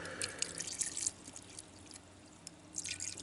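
Water is poured into a pot to make syrup for a Tex-Mex pork and beans taco salad, a faint splashing pour at the start and again near the end, with a quieter gap between.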